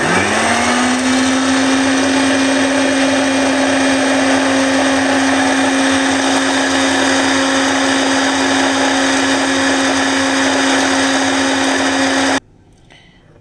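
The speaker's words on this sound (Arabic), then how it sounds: "وهنجيب الخلاط وهنضرب" An electric blender whipping cream runs at a steady high-pitched whine, loud and close and unbroken for about twelve seconds, then cuts off abruptly.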